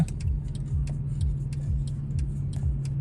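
Mercedes C63 AMG cruising, a deep steady engine drone with rhythmic light ticking clicks layered over it, heard from inside the car.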